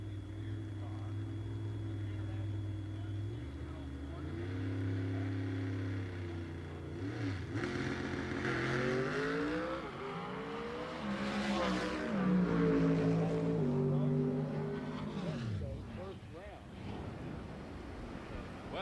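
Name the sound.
drag racing car making a pass, NHRA Southern Nationals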